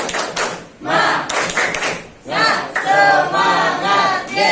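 A high school math class doing a rhythmic spirit clap, loud close bursts of clapping in a set pattern mixed with students' chanted voices, in short phrases separated by brief pauses.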